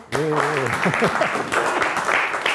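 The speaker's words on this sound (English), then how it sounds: "Please, everybody, we're clapping for you." An audience at an ask-me-anything session claps and applauds, a continuous spatter of clapping with a speaking voice and laughter layered over it.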